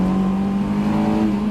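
Sustained high rev from a Honda S2000 in second gear, climbing toward redline with a loud, even engine note that rises slightly and stays close throughout, no talking.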